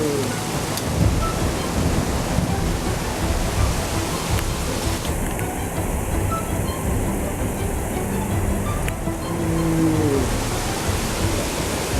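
A spring hailstorm in Quartu Sant'Elena, Sardinia, makes a dense, steady hiss and clatter of falling hail and rain, continuous and loud throughout, with faint tonal sounds in the background.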